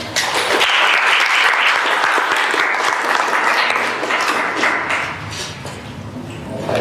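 Sustained applause from an audience welcoming speaker Elio Novello at a talk on welcoming refugees and asylum seekers in Australia, a steady dense clapping that holds loud throughout and eases slightly toward the end.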